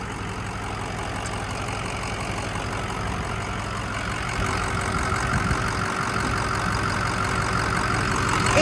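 A lifted 2006 Ford F350 with a Powerstroke diesel engine idles close by, a steady loud rumble and clatter that holds even and grows slightly louder toward the end, with no voices.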